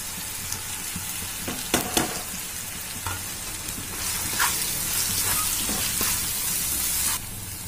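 Dry spice masala fries in a pan over a low flame for a spicy chole dish, giving a steady close sizzle with occasional scraping stirs and spoon taps. The sizzle grows louder partway through.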